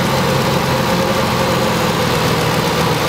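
A 2004 Ford F-150 engine idles after a water pump replacement, giving a steady, close mechanical hum with a faint rattle that holds unchanged throughout, with no talk.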